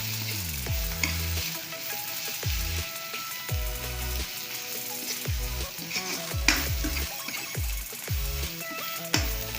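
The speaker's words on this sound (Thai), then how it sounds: "ผัดเผ็ดเนื้อหมูนะครับ ผัดให้หอมเลยนะครับ" Spicy pork stir-fried in a pan in a northern Thai kitchen: loud sizzling with repeated rhythmic scraping and clanking strokes of the spatula against the pan, close up and continuous.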